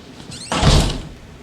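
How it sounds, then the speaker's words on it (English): A door in a horror-style video game slides and shuts with a single heavy thunk, a short rising scrape followed by a deep close impact that fades within a second. "I'm gonna close this door."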